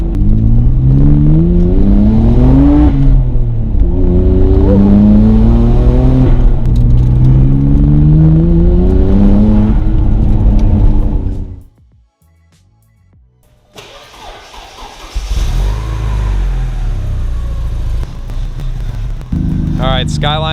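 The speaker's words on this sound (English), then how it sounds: "Those blow off sounds. I hope you guys can hear that." Porsche turbo engine revving hard, the pitch rising and falling through several sweeps, then a sudden drop to near silence before the engine noise returns with a hissing release, loud and close.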